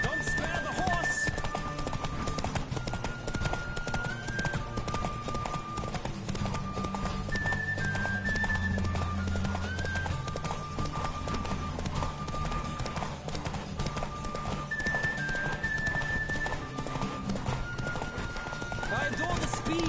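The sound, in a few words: horse galloping and neighing, from a video game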